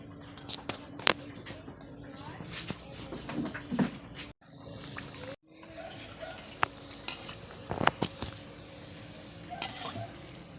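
Light sizzling of potato and onion kachoris frying in oil, with clinks of a utensil against a pan and occasional sharper knocks throughout.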